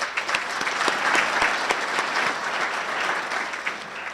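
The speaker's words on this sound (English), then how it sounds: "you give yourself a round of applause" An audience applauds at a city business event in Edwardsville, a steady, moderately loud wash of many hands clapping together for about four seconds, with no speech.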